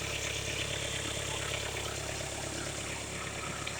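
A 2015 Volkswagen Golf TDI Sportwagen diesel engine idles close by, a steady, even low rumble with constant vibration and no change in pitch throughout.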